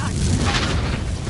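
A Confringo explosion spell bursts in Hogwarts Legacy as a loud, dense booming blast that rumbles through the whole moment without a break.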